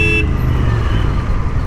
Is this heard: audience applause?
no